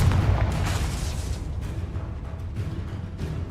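A Confringo explosive spell detonates in the Hogwarts Legacy video game: a loud, deep, rumbling blast that opens with a heavy boom and then rolls on as a steady low roar for several seconds.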